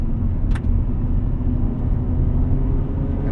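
Interior of a 1998 Honda Prelude Type SH on the move, with a steady, loud low engine and road rumble and a brief sharp click early on.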